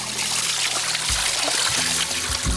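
Spring water trickles steadily as hands are washed in it, a continuous splashing flow with a few low thumps and dribbles, close and fairly loud with no speech.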